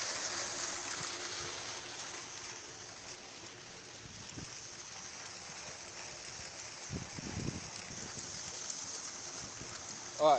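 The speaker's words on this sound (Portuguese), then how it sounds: "Tem 2 horas que essa água tá vazando assim, ó." Water leaks from a water-utility overflow pipe on a hillside street, making a steady, broad rushing hiss throughout, with a person speaking faintly over it and a brief thump at the end.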